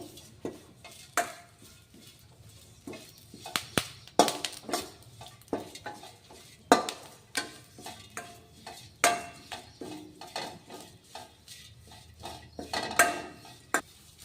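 Curry leaves are stirred and roasted in a pan for chutney, with an irregular clatter of a spoon scraping and knocking the pan over a faint, steady sizzle. The sounds are close and carry on without pause.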